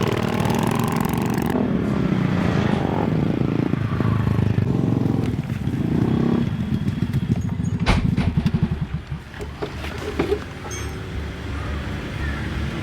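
A motorcycle rides steadily with a continuous engine drone and some clatter, its pitch shifting slightly, while people talk and call out over the noise throughout.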